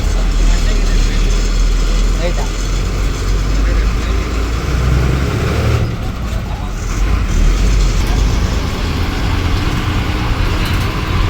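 A city bus engine drones steadily with road traffic noise in the Bus Simulator Indonesia game, on a Mangalore to Dharmasthala cabin ride, loud and continuous with a low rumble throughout and no talk.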